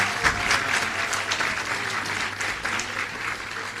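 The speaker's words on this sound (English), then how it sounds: "We need a bigger clap for Ms. Shirley Johnson." Loud, sustained applause from the audience at a credit union's annual general meeting, many hands clapping densely and evenly throughout, with faint voices mixed in beneath.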